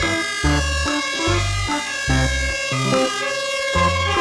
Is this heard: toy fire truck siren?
yes